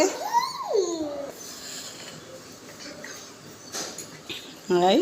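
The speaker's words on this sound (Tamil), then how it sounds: "குட்டி நாய் அழகா இருக்கு" A puppy lets out high, wavering whimpers at the start and again near the end, with children's chatter and voices around it.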